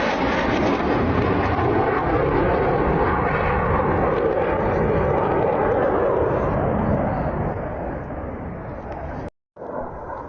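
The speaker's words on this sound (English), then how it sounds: "The Su-25 attack aircraft in the Donbass." Su-25 attack aircraft flying low over the Donbass, a loud, steady, broadband jet roar that holds close and constant, easing slightly near the end before a brief dropout.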